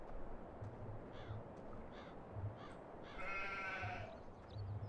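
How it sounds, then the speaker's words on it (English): Sheep bleating on a farm in the Farming Simulator 2017 video game, several short wavering bleats scattered over a faint ambient background, one longer bleat in the middle, no talking. "Okay, so we have sheep on the farm."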